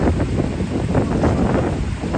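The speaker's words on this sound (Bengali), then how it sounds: "এত সুন্দর একটা বাতাস গাছে" Steady wind sweeping through trees beside a spring-fed fishing spot in Nikko, Japan, a continuous broadband rush with gusty swells, close to the microphone and with no voices.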